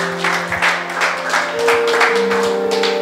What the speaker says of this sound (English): So can we all put together a big round of applause and welcome Anu?